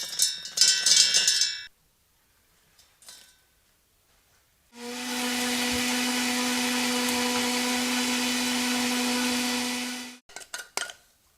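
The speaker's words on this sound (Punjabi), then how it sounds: "ਇਹਨਾਂ ਸਾਰੀਆਂ ਚੀਜ਼ਾਂ ਨੂੰ ਇੱਕ ਮਿਕਸੀ ਦਾ ਜਿਹੜਾ ਜਾਰ ਹੁੰਦਾ ਉਹਦੇ ਵਿੱਚ ਪਾ ਕੇ ਇਹਨਾਂ ਦਾ ਪਾਊਡਰ ਬਣਾਇਆ ਜਾਣਾ" A kitchen mixer grinder jar powders roasted ingredients, running as one loud, steady whirring roar for about five seconds before cutting off, with brief clattering handling sounds before and after.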